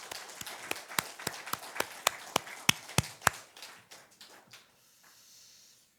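A church congregation claps in a steady, brisk rhythm of sharp, close claps during a Sunday service. The claps then loosen and fade out into quiet.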